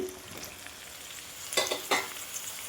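Chopped eggplant is stirred into a pan of karapendalam (tapioca) being cooked for an eggplant and tomato curry. A low sizzle runs throughout, and two short, fairly close scraping stirs come near the end.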